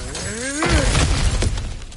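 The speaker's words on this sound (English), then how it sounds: "back to smashing through things for fun and profit" An object shatters and breaks apart in God of War Ragnarok, a loud close crash of splintering debris that cuts through a low droning tone and trails off in scattered clatter.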